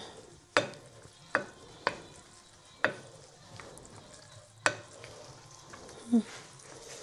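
Noodles with egg and rice being stirred in a pan, a spoon or spatula knocking against the cookware in sharp, irregular clacks about a second apart over a low background sizzle.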